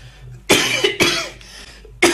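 A person coughs three times, loud and close, in sharp separate bursts with brief pauses between them.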